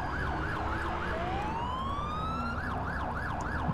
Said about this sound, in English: Oh yeah, we can run our sirens too.